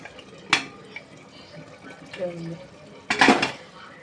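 A metal pressure cooker lid is opened in a home kitchen, a sharp clank followed by fainter metallic taps and a louder scraping rattle near the end.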